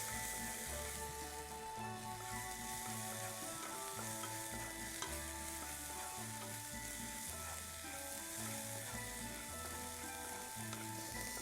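Mace and other whole spices sizzle in a hot pan for chicken changezi while a spoon stirs them in a steady repeating rhythm, close and continuous, with no talking.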